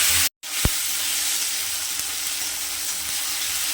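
Garlic and green chillies frying in a hot pan, a loud continuous sizzle right after a brief clatter of ingredients dropping in, steady and close.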